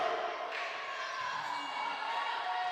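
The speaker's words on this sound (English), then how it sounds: "The crowd is nice and loud." A loud crowd of Eagles fans fills a school gym during a volleyball match, keeping up a steady roar of cheering and shouting throughout.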